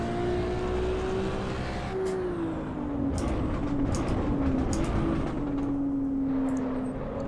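Racing car engine in the Assetto Corsa Evo racing game, a loud continuous drone with steadily shifting pitch as the car drives, plus a few brief sharp transients over the top.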